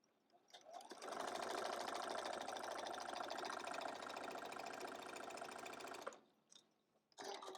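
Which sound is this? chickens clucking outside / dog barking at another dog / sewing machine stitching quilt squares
sewing machine stitching quilt squares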